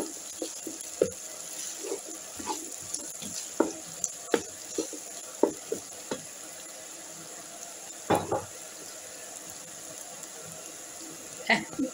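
Ingredients for green lentil soup frying and being stirred in a pan, soft sizzle under scattered clinks and scrapes of a utensil against the pan, fairly quiet and close.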